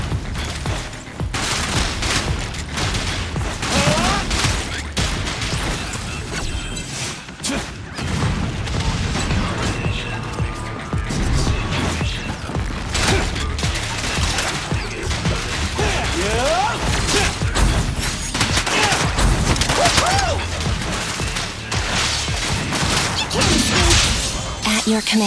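Zenless Zone Zero gunshots, rapid bursts of firing and sharp impacts with clanking, mechanical combat noise, loud and nearly continuous, with character voices calling out between the volleys.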